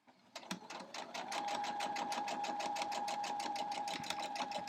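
A sewing machine runs steadily, stitching a quilt block seam for an 8-point star with the presser foot guide, its rapid even needle rhythm close and continuous after a brief start.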